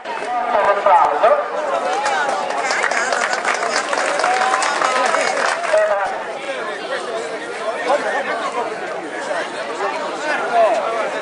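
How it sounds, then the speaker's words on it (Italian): An Italian hall audience applauds children at a community event, with sustained clapping mixed into loud crowd chatter and voices throughout. "Un applauso."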